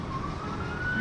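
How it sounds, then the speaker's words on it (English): Ambulance siren passing during a livestream, a steady wailing tone that slowly rises in pitch over constant traffic rumble, moderately loud and unbroken with no speech. "That's not our siren, by the way. That's an ambulance."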